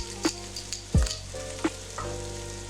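Mushrooms tossed in bacon grease in a hot pan crackle and sizzle closely, with several dull thumps and scrapes as they are stirred and moved around.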